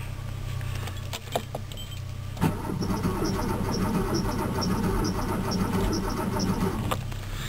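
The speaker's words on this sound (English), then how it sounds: "I'm going to turn the key, and the question is, will that battery light come on? It does. Will the engine crank? It does." Porsche with a cold engine and weak charging system, key jangles and clicks before the starter cranks in a steady, moderately loud churning whir that runs for several seconds without catching.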